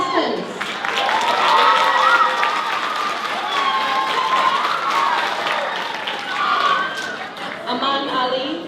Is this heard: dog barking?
no